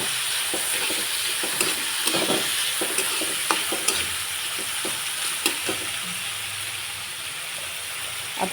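Soaked moth bean dal fries in a hot pan for a ridge gourd dish, a continuous crackling sizzle broken by repeated scraping and clinking spoon strokes as it is stirred, close and fairly loud.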